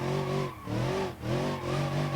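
A car drifting in BeamNG.drive, its engine revving in three rising-and-falling surges with brief dips between, fairly close and loud, with a faint tire edge.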